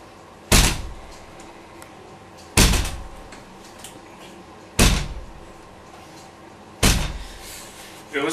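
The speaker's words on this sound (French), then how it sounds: "une porte-fenêtre dont le mécanisme de fermeture reste inconnu à ce jour" A hotel room French window with an unknown closing mechanism shuts four times at roughly two-second intervals, each one a sharp, loud close with a brief rattle and decay, heard close by.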